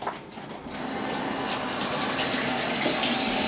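Tap water runs steadily into a kitchen sink for a quick wash-up during baking, a continuous close gush with no talk.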